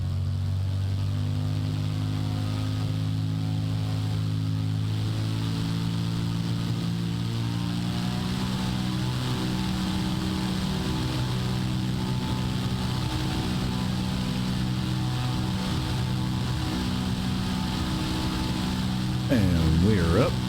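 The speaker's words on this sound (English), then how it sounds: "We are configured for takeoff." A Cirrus SR-22 propeller plane in Microsoft Flight Simulator 2024 drones at a steady, loud engine-and-propeller pitch that shifts and rises as it takes off.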